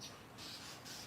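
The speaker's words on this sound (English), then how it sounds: "I hope y'all hear the birds. I'm looking at a cardinal." Cardinals call outside in territorial squawks, two or three bright repeated bursts from a moderate distance over a steady outdoor hiss.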